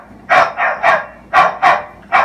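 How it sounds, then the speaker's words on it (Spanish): A dog barks six times in two paired bursts, each bark sharp and fairly close, with short gaps between them and no other sounds. "y los ladridos del perro."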